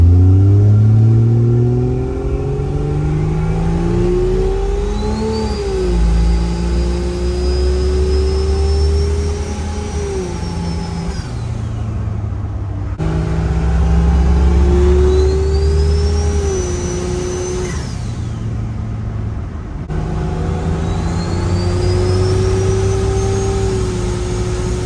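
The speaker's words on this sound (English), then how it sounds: "I'm just gonna check it out and drive the Jeep around" Jeep Cherokee XJ with a turbocharged 2JZ engine swap and factory AW4 transmission, driving: a loud engine repeatedly revs up through the gears with a rising turbo whine, easing off between pulls, close and steady throughout.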